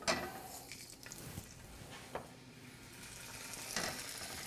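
Skewers searing in a hot pan give a steady, close sizzle with scattered sharp clicks and scrapes of metal against the pan, no voices.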